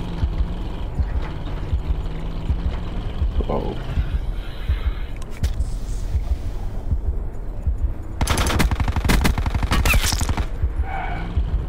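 Rapid bursts of automatic gunfire crackle in a Call of Duty Black Ops 4 Blackout match, with sustained rattling volleys late on over constant game noise, while players talk over the action.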